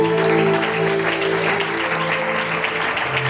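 A congregation at a church service for a Yom Kippur celebration applauds the Lord with dense, sustained clapping. A steady low tonal hum runs beneath the clapping throughout.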